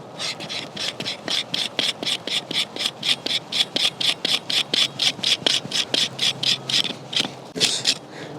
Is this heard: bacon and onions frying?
no